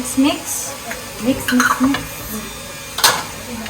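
A spoon stirs kare-kare in a metal cooking pot, making clanks and scraping clinks in short bursts with brief pauses between them. A soft sizzle runs underneath.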